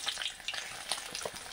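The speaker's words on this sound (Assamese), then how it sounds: "এয়া ইফালে ভাজা হৈছে আৰু ইফালে ভাজি আছোঁ।" Large pieces of kanduli fish, about a kilogram's worth, fry in hot oil with a steady close crackle and sizzle, dotted with sharper pops and spits throughout.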